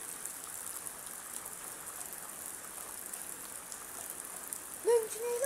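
Steady light rain patters outdoors, a soft continuous hiss heard fairly faintly, with a brief voice-like sound near the end.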